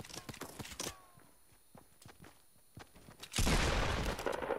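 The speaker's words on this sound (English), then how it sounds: "You were getting shot." Gunshots in Fortnite come as a scattered series of sharp cracks with pauses, followed by a louder, sustained burst of noisy firing toward the end.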